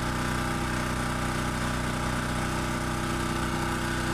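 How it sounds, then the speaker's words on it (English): A Champion dual fuel generator engine runs steadily on propane, a constant loud mechanical drone with an even hum and no change in pitch. "Now, when it's running on propane, you have to actually turn the valve off on the cylinder and shut the engine off."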